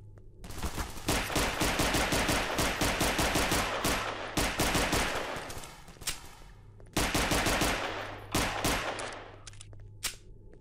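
Rapid gunfire in the Half-Life 2 Episode 2 mod Aberration, dense bursts of shots filling most of the stretch with short pauses, loud and close, with a low steady hum underneath.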